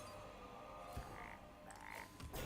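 Frog croaks in a fantasy card video game after a transform-into-frog spell, two soft croaking bursts over a steady game backdrop.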